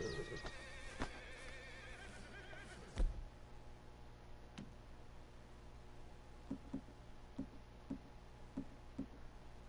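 Horse whinnying early on with soft clip-clopping hooves later, in the video game Red Dead Redemption 2, heard over a steady low game ambience.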